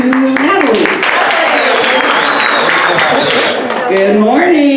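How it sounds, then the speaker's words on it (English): An audience at a Cypress Saturday Menudo Club event applauds for Dr. Natalie Blasingame, a loud sustained wash of clapping with strong voices and cheering mixed in, a speaking voice audible at the start and end. "So please give a round of applause to Natalie."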